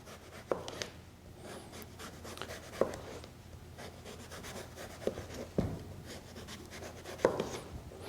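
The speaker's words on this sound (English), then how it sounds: "You can peel it with a chef's knife as well, though. Just take the knife and go around like that." A chef's knife peeling produce on a board, giving soft rhythmic scraping and rubbing strokes with occasional light taps against the board, close and fairly quiet with no talk.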